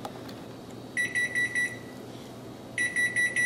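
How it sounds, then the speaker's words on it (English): An electronic kitchen timer beeps in quick bursts of four shrill chirps, pausing, then repeating the same pattern, bright and close, while eggs are boiling. "Yay, timer's off!"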